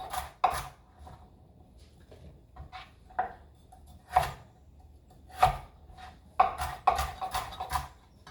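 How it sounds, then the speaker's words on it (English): An onion is cut into small pieces with a knife on a board: a dozen or so crisp, irregular chopping knocks separated by short pauses, close and clear with no talk. "we put a piece of onion in there just to give it some flavor guys. Just cut those really small."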